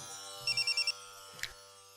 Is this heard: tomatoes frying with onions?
no